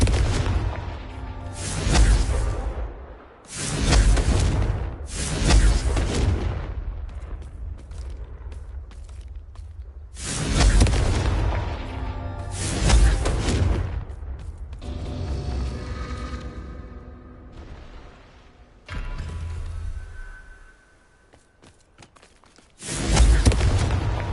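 Confringo spell explosions boom repeatedly in the Hogwarts Legacy video game, loud heavy blasts with rumbling tails arriving in clusters, then a quiet gap before a final burst.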